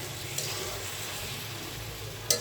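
Ghee sizzles steadily on cooked zarda rice in a pan, a constant soft hiss throughout with a couple of brief sharper crackles and no talking.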